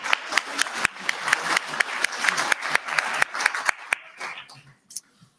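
An audience claps for a retiring high school teacher at a school ceremony, a steady round of applause that thins out and fades over a few seconds with a little murmured talk.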